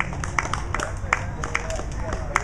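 Audience applause for a musician after his performance: rhythmic, scattered clapping from a modest crowd, with a voice talking over it throughout.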